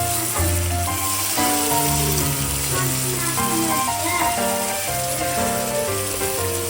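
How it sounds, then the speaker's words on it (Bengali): Minced onion sizzles and fries steadily in hot oil in a pan for a chicken and papaya curry, a close, continuous crackle with no talk over it. "এখন আমি পেঁয়াজ মিহিটা দিয়ে দিব।"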